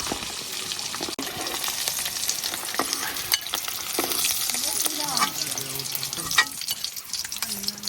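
Pabda fish rubbed with salt and turmeric fry in hot oil in a home Bengali kitchen, giving a continuous crackling sizzle with scattered pops and spits throughout, fairly loud and close.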